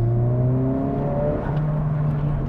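A Honda Civic Type R engine revs hard under acceleration, its steady rising harmonic whine climbing continuously and loud, with road and wind noise beneath and no talking.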